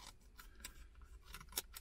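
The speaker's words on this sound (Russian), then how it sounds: "Теперь, что касается ножниц. Они здесь тоже присутствуют, подпружиненные." Spring-loaded scissors on a Sanrenmu PT721 multitool snipping several times in close succession, quiet crisp clicks with one sharper snap near the end, no talking.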